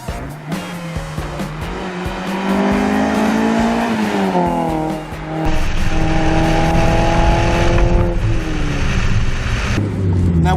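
An NB Mazda MX-5 Miata on a road test drive, its engine droning loudly and steadily as it climbs through the revs, easing off briefly around a gear change before pulling hard again, heard from inside the car.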